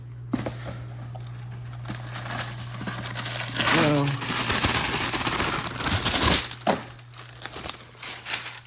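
Parchment paper crinkles and rustles as it is spread over a baking sheet in a home kitchen, a steady crackle running for several seconds with a few sharper crumples and a constant background hum.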